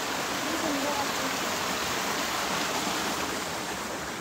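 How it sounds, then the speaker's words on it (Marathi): A shallow stream flows steadily in the open, a soft, even wash of moving water heard from nearby at low volume throughout. "हे बघा पाणी, बघा पाणी"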